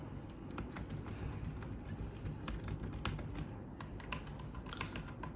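Typing on a Bluetooth keyboard, either a Logitech K380 or a Miniso model: quick, uneven key clicks pattering close up over quiet room noise, with no talking.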